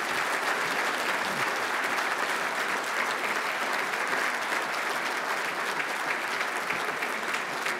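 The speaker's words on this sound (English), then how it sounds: "as you can hear from the applause" Sustained, even applause comes from a large crowd at a veterans' organization's midwinter conference, a broad wash of clapping that stays loud and steady throughout with no voices on top.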